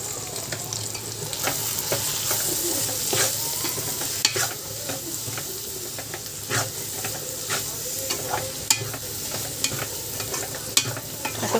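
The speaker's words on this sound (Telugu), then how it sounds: "అట్లా కారం వేసి కలిపేసుకున్నాం కదా ఫ్రెండ్స్" Ivy gourd curry stirred in a pan after chili powder is added, with a steady close sizzle of frying throughout and repeated sharp scrapes and clicks of the spoon against the pan, no voices.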